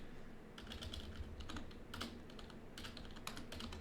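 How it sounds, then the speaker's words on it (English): Fingers type a command on a computer keyboard, bursts of quick close key clicks with short pauses between them, no talking. "when you want to run it, you're going to type Python 3"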